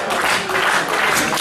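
Wrestling crowd at an OPW live event applauding and cheering, a dense, steady wash of clapping and voices at moderate loudness, filling the space without a break.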